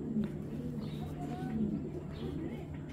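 Racing pigeons at a loft cooing softly, low repeated coos and a few faint chirps over steady background hum, with a voice talking quietly in the background.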